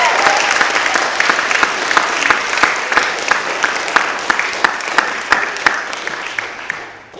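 An audience applauds the creative writing faculty at a senior recital at Interlochen Center for the Arts, with steady clapping for about seven seconds that fades at the end.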